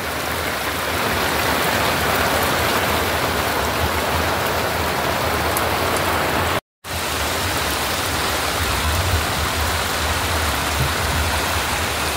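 Heavy rain pours down outdoors in a loud, dense, unbroken roar with a brief cut near the middle, and no one speaks.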